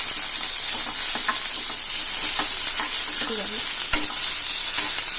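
Onions frying in a pan for besan kadhi, a loud, constant close sizzle with scattered light taps and clicks of a utensil, no talking.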